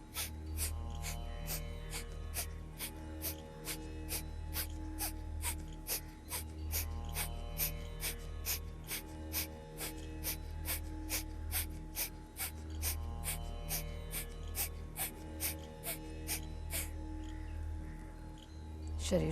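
Forceful alternate-nostril exhalations from a virechan kriya yoga breathing exercise, about thirty sharp nasal snorts in a steady, evenly spaced rhythm, close and clear over a low steady hum.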